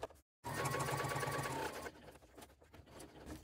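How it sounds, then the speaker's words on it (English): A sewing machine with a long stitch length runs steadily for about a second and a half, basting vinyl trim along a raw edge. It is quiet and close, followed by softer handling noises. "Using a longer stitch length, I'm going to sew first up the raw edge to baste that trim piece in place"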